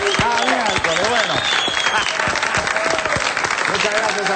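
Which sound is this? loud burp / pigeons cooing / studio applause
studio applause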